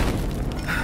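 A grenade explodes in Battlefield Hardline on PS4: a brief, heavy, low boom filling the whole moment, close and loud with no talk over it.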